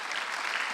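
Congregation applauding during a Korean Sunday church worship service, a dense steady wash of many hands clapping at once, moderately loud and continuous with no voices.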